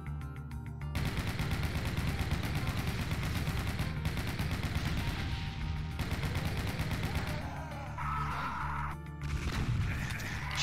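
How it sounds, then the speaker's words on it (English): Rapid automatic gunfire from chaingunner enemies in Doom 2, played through the Back To Saturn X map set, rattles continuously and loudly for most of the stretch, briefly dipping before resuming. "Chain gunners!"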